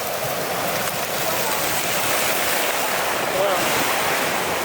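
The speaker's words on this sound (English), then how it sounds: "The ice jam gave way without warning, releasing a violent flood that pushed massive ice chunks through the river" A violent river flood after an ice jam gives way, carrying ice chunks downstream, comes through as a loud, constant rushing roar with wind buffeting the microphone.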